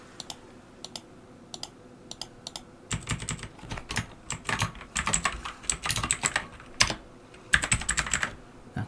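Keys clatter on a computer keyboard while text is typed into an HTML web form: a few sparse taps at first, then faster bursts of close, crisp keystrokes with brief pauses between them.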